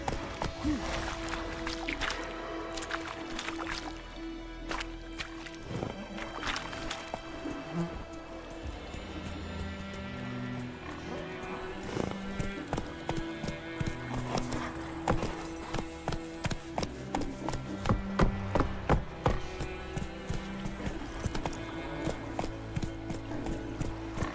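Roach the horse galloping in The Witcher 3, a steady rhythmic clip-clop of hooves with mechanical rattling from tack and gear, running throughout and growing louder toward the end.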